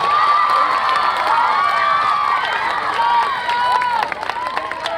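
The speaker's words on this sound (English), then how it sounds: "One more round of applause for Aldir" At a school concert night, the crowd cheers and claps for a dombra performer, with high voices shouting and whooping loudly over scattered applause that thins toward the end.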